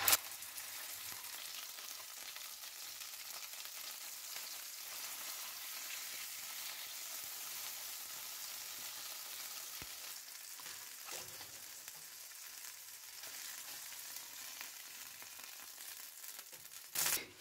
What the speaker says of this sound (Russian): И аккуратненько отправляю форель жариться.